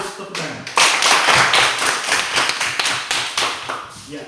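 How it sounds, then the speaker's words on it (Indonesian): A group of children in a classroom break into a burst of hand clapping: dense, rapid, overlapping claps that start abruptly and continue unevenly, with some voices mixed in. "Harus tepuk tangan."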